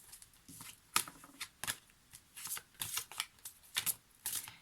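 Oracle cards being shuffled and drawn, a run of quick papery riffles and slaps in uneven bursts, close and fairly quiet, with no voices.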